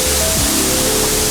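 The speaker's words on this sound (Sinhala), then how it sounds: "අපි දියැල්ල බැලුවා." A waterfall's steady, dense roar, loud and close, with no break for the whole short stretch.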